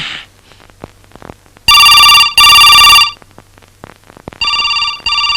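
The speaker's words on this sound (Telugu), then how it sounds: "ఫోన్ మోగుతుంది, ఎవరో చూడు." An electronic phone ringtone chimes loudly in four bursts, separated by short quiet gaps with faint background clatter.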